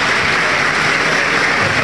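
Applause from an audience greeting guests arriving at a formal legislative session, a dense, steady wash of many hands clapping at close range throughout, with no talking.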